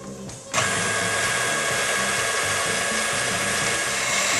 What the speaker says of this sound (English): I'm going to put on my dough hook